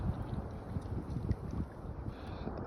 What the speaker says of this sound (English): It's a little bit more windy up here on this lake, or pond, whatever you want to call it.